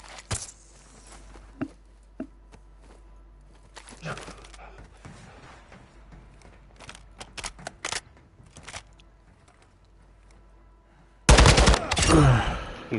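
Gunfire in the Call of Duty video game: scattered sharp shots early on, then a loud, dense burst of rapid automatic fire near the end, with no speech.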